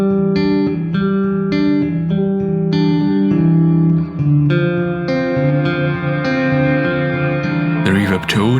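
Shift Line Everest II guitar pedal with its reverb decay knob turned to maximum, sustained guitar chords ringing into a dense, long reverb wash that builds and blurs across the clip, with a brief pitchy sweep near the end.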